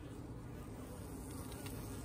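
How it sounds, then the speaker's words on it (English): Dense, steady buzzing of many honeybees around a backyard hive that has just had a split taken out and holds a swarm caught in a trap, heard close and continuous with no talk. "Even after taking that split out, you can see a lot of bees in here."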